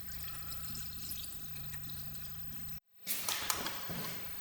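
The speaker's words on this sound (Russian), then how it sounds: "Заливаем антифриз." Antifreeze poured into the cooling system of a Kia Sportage 3 with a G4KD engine during a rebuild, a steady liquid gurgle and trickle, close and continuous, briefly cutting out before a brighter splashing pour resumes.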